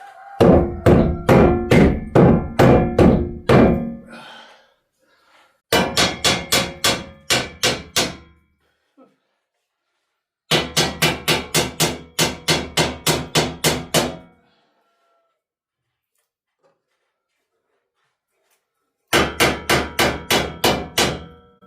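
Steady hammer blows in quick rhythmic runs during a stair grille installation, several bursts of a dozen or so strikes separated by pauses, loud and close.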